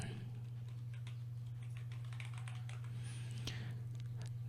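Someone typing a caption file name on a computer keyboard in Camtasia, quick light clicking keystrokes over a loud steady electrical hum.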